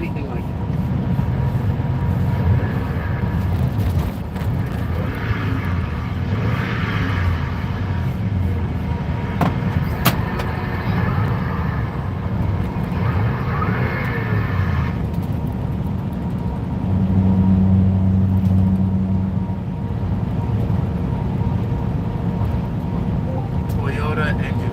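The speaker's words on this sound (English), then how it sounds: "You'll hear a little bit of whine while you get up through the gears." A car engine whines as it accelerates through the gears, a sustained drone under steady road noise with a voice talking over it for much of the time.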